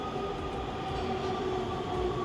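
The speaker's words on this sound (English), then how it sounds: "But it wasn't long before my train arrived." A metro train rolls into a Los Angeles station with a continuous loud rumble and steady whining tones, heard up close without any voices.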